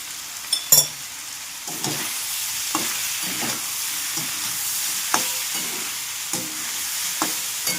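Cauliflower cooking with crushed peanuts in a pan gives a steady soft sizzle, with sharp scrapes and taps of a spatula as it is stirred at intervals, close by.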